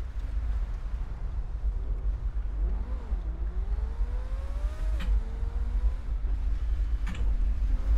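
Steady traffic noise from cars on a freeway in the video game GTA 5, a continuous low engine rumble with tones that rise and shift as vehicles accelerate, plus a couple of brief sharp clicks and no talk.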